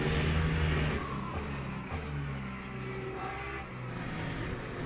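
Several race car engines drone and rev together in a racing game, a steady loud whine with shifting pitches as cars jostle close by.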